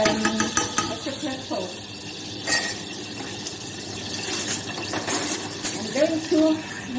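Spoon stirring Nutella in a pan over low heat to make chocolate sauce, with soft scraping and clinking under steady talk from a woman.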